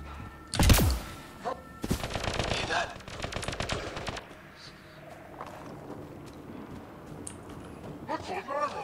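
Rapid bursts of gunfire from the Mass Effect Andromeda video game ring out in the opening seconds, loud and close, then give way to quieter combat ambience under speech.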